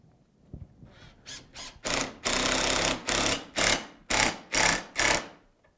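A driver sends 2-inch screws through a gusset plate to join Andersen fiberglass mulled window units, heard as a string of loud, close, whirring bursts, each under a second, running almost back to back.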